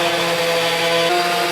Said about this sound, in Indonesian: Sekarang kita pukul dulu supaya berjejak. Setting ke hammer drill ya.